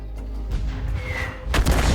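Heavy booming blasts of video game artillery fire thud close by in a World War II tank battle, a deep rumble followed by a sharper explosive crack, loud and unaccompanied by voices.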